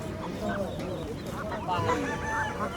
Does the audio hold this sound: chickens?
yes